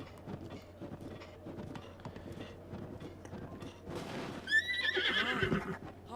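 Horse in the video game Zelda Breath of the Wild, hooves clip-clopping rhythmically before a loud descending whinny near the end, close and clear with no talk.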